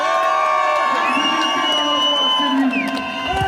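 A marching crowd at a Paris demonstration for higher wages and against pension reform cheers and shouts loudly and steadily, with whoops and children's cries rising over the dense roar.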